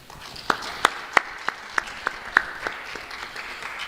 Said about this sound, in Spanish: Recibimos con un fuerte voto de aplausos.